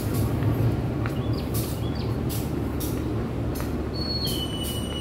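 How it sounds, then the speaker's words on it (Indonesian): A local train coming to a stop at Cimekar station, with a low steady rumble heard from aboard, faint brake squeals, and birds chirping in the background. "Kereta api lokal yang saya naiki saat ini sudah tiba dan berhenti di stasiun Cimekar"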